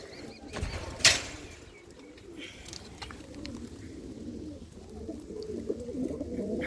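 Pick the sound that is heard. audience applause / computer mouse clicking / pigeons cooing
pigeons cooing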